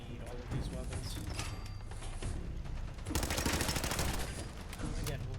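Rapid auto pistol gunfire in the video game Fallout 4, a dense rattling burst of shots over clanking mechanical game sounds, with a sustained fast volley in the second half.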